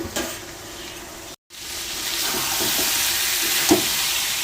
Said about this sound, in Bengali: তারপর সোয়াবিনটা দিয়ে ভালো করে কষাবো। অর্ধেক কষা হয়ে গেছে, আর একটু বাকি আছে।